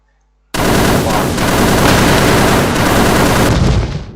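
A machine gun in the ZeroBodyFighter-X video game cuts in abruptly after a moment of silence and fires one loud, sustained burst lasting about three seconds before tailing off.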